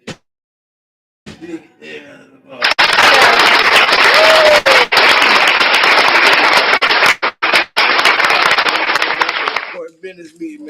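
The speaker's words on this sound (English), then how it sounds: "Give him a hand clap." An audience at a podcast gathering claps and cheers as a guest named Big Industry enters, a burst of loud crowd applause lasting several seconds between stretches of talk.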